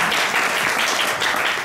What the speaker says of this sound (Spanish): un aplauso para Usue, que lo ha definido perfectamente.